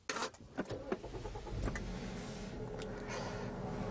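A 2021 Jeep Renegade's 2.4-litre petrol engine cranks by push button and catches, settling into a steady low idle after a few clicks and rustles.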